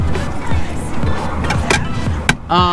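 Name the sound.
Subaru WRX STI car passing by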